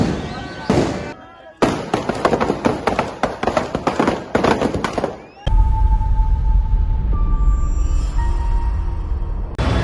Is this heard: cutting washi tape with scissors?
no